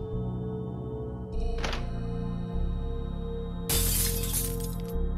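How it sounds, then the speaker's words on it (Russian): Glass shoe shattering in the video game Endou-san: two sharp bright cracking bursts, the second louder and longer, over a steady game music background. "Стеклянная обувь окончательно растрескалась."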